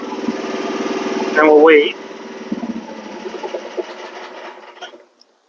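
Small diesel engine of a Rippa R10 Eco mini excavator idling steadily through its shutdown delay after the key is turned off, a close, even drone under a short spoken remark, fading away and stopping at the end.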